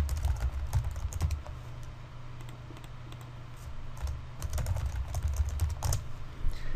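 Typing on a computer keyboard, with a close, continuous patter of uneven key clicks and a few louder taps, and no voices.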